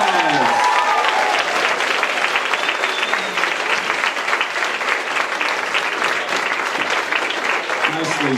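A high school improv night audience breaks into loud, sustained applause, a dense wash of clapping from a full room with some voices mixed in, holding steady throughout.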